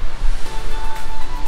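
Ocean surf on Sam Son beach in Vietnam rushes in a loud, close wash, with rumbling low noise suggesting wind on the microphone.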